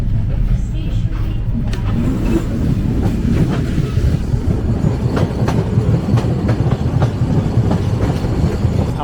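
Padma Express passenger train running at speed, rumbling and clattering steadily with rhythmic clickety-clack of wheels over rail joints, heard from on board as a loud unbroken roar.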